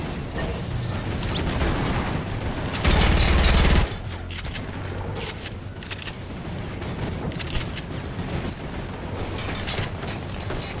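Rapid gunfire crackles through a Fortnite Battle Royale match, dense bursts of shots with a louder, harsher volley near the middle, steady rattling shots continuing over a noisy game backdrop.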